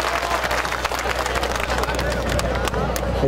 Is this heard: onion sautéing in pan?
no